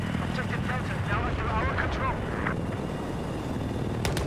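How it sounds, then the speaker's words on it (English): Helicopter in the game Battlefield 4, a steady low rotor and engine drone filling the scene close by, with shouted speech over it. "Chopper's right underneath us."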